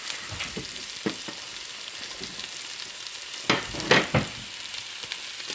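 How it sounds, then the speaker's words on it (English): Chopped onion frying in a pan of vegan fried rice with soft cooked carrots, a steady close sizzle with occasional louder scraping stirs near the end, no talking. "Then it's time to put my onion."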